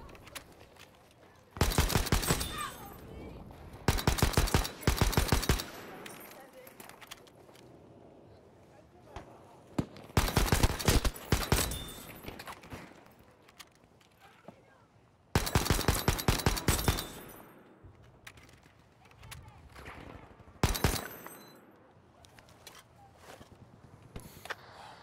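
Enemy machine-gun fire in Battlefield V, loud close bursts of rapid automatic shots coming in several separate volleys with quieter battle noise and voices between them.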